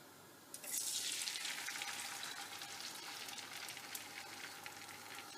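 Three beaten eggs hit a hot pan for a cheese omelette and burst into a loud, bright sizzle that stays steady and slowly softens, close up and with no talk.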